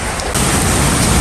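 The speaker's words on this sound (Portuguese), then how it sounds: "aqui é uma região que chove, mas quando chove, chove mesmo" Steady, dense roar of heavy rain pouring down in a rural region, loud and continuous with no voices.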